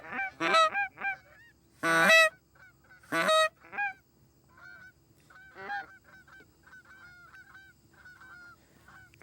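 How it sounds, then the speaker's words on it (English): Canada geese honking from a goose blind during a hunt, loud repeated calls in a few bursts up front, then quieter, more distant honks continuing throughout. "Goose hunting is exciting, calling and watching the geese come in."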